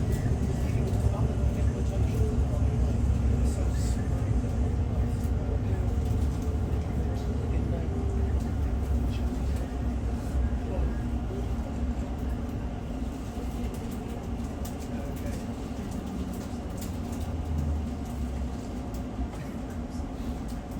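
A crowded London Overground Weaver line train rolls along with a constant loud rumbling drone of wheels and carriage noise, steady throughout with faint voices beneath.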